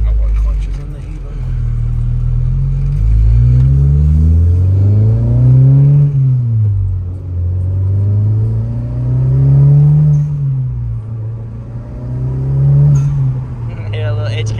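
A Honda Civic Type R with full bolt-ons on a stock clutch accelerates hard from inside the cabin, its engine revving up through rising sweeps and dropping between gear changes, loud and continuous, with people talking over it.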